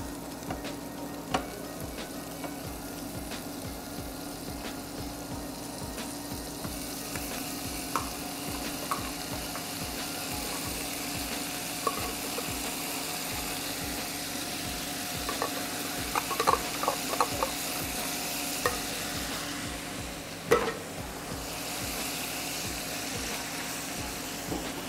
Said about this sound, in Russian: Буквально пару минут обжариваем грибы с луком и добавляем тушенку